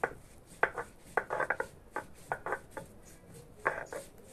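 Fried jackfruit seeds being ground by hand, a series of short rubbing, scraping strikes in uneven bursts, close and fairly quiet, with no talking.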